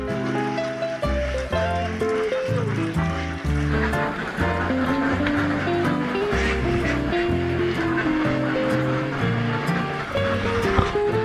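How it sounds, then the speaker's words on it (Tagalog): A dense, constant chorus of quacking from thousands of ducks at a duck farm in Pampanga, overlapping loud calls near and far with no break. "Ilang libong itik kaya meron dito, no?"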